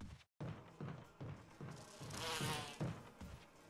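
Insect-like buzzing of bees in the survival-horror game Resident Evil on Switch, a steady droning swarm with rhythmic thumping game sounds beneath it, moderately loud with a brief silent gap near the start.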